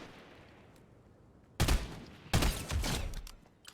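Gunfire from the video game Fortnite: two loud bursts of shots close by, the second running longer, with quiet game ambience before and between and no talking.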